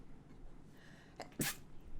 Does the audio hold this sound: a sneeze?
yes